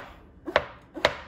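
A knife slicing through king oyster mushrooms on a cutting board: two crisp, close chops about half a second apart, each with a short soft lead-in, in a quiet room.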